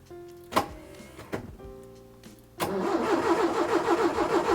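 A car engine cranks in two short, separate attempts and then catches, going into a loud, steady running rumble. The car has mould on the seats and a weak battery.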